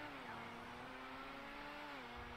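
Entity XXR hypercar engine in GTA Online revving at a steady high pitch, with a sustained tone that shifts slightly in pitch over a couple of seconds, fairly quiet with some faint background noise.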